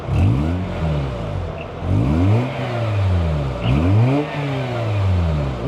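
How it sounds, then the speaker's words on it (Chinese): A Mazda RX-8 rotary engine with its exhaust valve closed revs repeatedly, climbing and falling in three or four loud, smooth sweeps heard close up inside the car. "我们来踩一下油，听一下关掉的声音啊"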